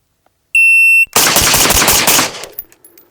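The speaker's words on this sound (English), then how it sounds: "the difference between shooting suppressed and unsuppressed with a big fat muzzle brake" Rifle fire during a Bill drill, shot unsuppressed through a big muzzle brake: a shot-timer beep, then a loud, fast string of close cracks that blur into a continuous roar before a short ringing tail.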